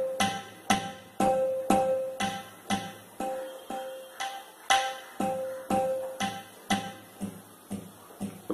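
A tabla rhythm played on a Yamaha PSR i455 keyboard with only the bayan part active: a steady, repeating pattern of crisp, evenly spaced drum strokes, close and clear, with no voices.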